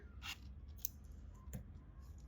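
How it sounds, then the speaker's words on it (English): Scissors snip through yarn while crocheting, a few quiet, sharp metallic cuts spaced apart in a hushed room with no talking. "grab your scissors and cut off the yarn."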